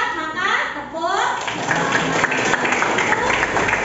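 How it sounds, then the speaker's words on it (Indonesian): Students in a classroom break into brisk, dense clapping together, loud and close, with children's voices calling out over the start before the applause settles into a steady wash. "kalau sudah sepakat maka tepuk"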